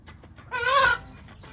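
A chicken gives one loud, close squawking call in a backyard chicken run of about 15 by 9 feet, with softer clucks before and after.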